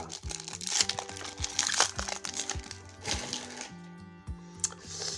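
Crinkling and crackling of plastic wrap being torn off a Magic: The Gathering Strixhaven bundle box, close up, in irregular bursts of handling noise with a few sharp cracks.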